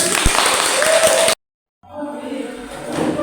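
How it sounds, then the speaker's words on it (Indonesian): Classroom applause after a student presentation, a dense burst of clapping that stops abruptly, followed by a short gap and then softer room noise with faint voices. "tepuk tangan."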